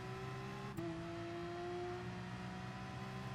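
A race car in Gran Turismo Sport at full throttle on the Kyoto Driving Park circuit, engine droning with steady harmonic tones and a quick gear shift early on, continuous and fairly loud with no talking.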